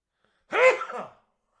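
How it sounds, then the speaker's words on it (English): A man sneezes once, a single close, sharp burst that tails off quickly, with silence before and after. "I feel like I'm going to sneeze."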